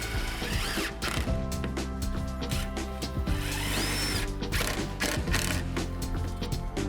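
A power drill drives 4-inch screws into an insulated concrete form buckout, whirring loudly and steadily in repeated close bursts with short breaks, no voices.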